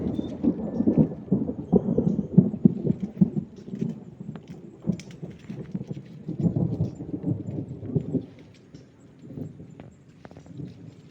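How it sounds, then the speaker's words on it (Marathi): Low, rumbling thunder rolls on and off for several seconds, with steady background noise and occasional sharper knocks. "पुन्हा पावसाला जोर आहे आणि मेघगर्जनासह पाऊस येण्याची शक्यता आहे"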